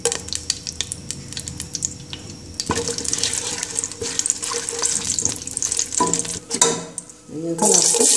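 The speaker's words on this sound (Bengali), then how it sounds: "তেল দিয়ে আমি মরিচগুলো রসুনগুলো ভেজে নিব।" Chilies and garlic fry in hot oil in a saucepan, sizzling and crackling loudly up close with stirring scrapes, the sputter surging as more goes into the pan.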